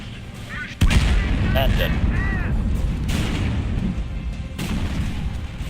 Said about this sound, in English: 2 artillery shots was all it took.